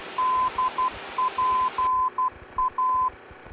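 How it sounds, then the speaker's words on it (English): A VOR station's Morse code identifier plays over an aircraft nav radio during a flight lesson, a steady single tone keyed in short and long beeps, cycling clearly above faint cockpit hiss. "we'll listen for that Morse code"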